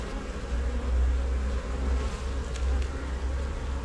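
Honey bees hum in an open hive during an inspection, a dense, steady drone close by with no breaks and nobody speaking.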